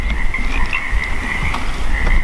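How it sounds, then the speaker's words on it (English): Frogs croak in a dense, continuous chorus at a riverside RV resort in Klamath, California, in spring, a steady loud pulsing trill filling the air with no voices. "You hear the frogs?"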